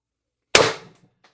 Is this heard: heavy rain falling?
no